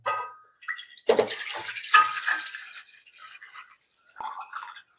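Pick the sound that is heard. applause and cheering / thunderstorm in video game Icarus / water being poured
water being poured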